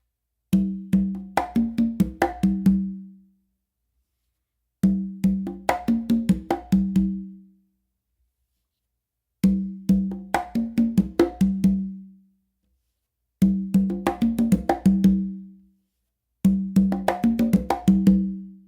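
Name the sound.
conga bomba pattern played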